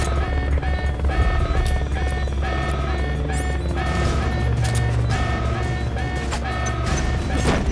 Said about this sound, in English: You better do something about that chopper.